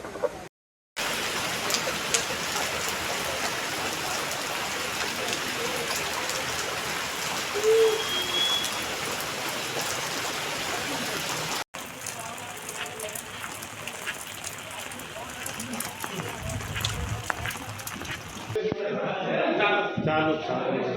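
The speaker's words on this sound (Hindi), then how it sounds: "लगातार पहाड़ों में खूब भयंकर जो ये बारिश हो रही है" Heavy rain pours down in the hills during a flood alert on the Sharda river. It makes a dense, steady roar that fills the whole stretch, broken by a brief cut midway, with faint voices near the end.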